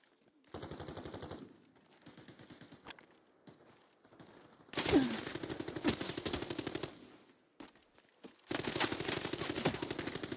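Bursts of automatic gunfire in the shooter game Arena Breakout Infinite, heavy rattling volleys with pauses between them, some close and loud, others quieter and farther off, with a few footstep-like sounds.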